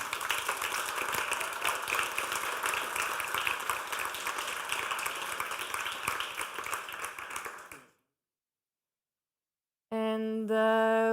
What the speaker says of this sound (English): Maybe we can give another round of applause for all the teams.